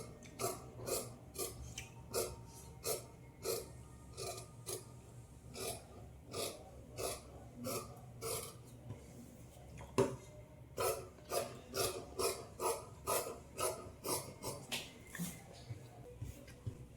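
Fabric scissors snip through blouse cloth in a steady run of short, crisp cuts, close and fairly quiet, with a brief pause midway before the rhythmic snipping resumes.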